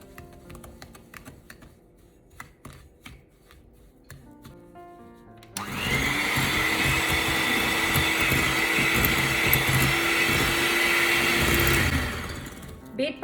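Electric hand mixer beating butter and caster sugar for a butter cake, starting with light clicks and taps, then a loud steady motor whir for about six seconds before cutting off.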